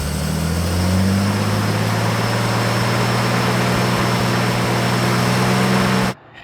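A 1950 DeSoto Custom engine, running smoky and smelling of ATF, idles with a loud, steady low rumble for about six seconds, then cuts off abruptly.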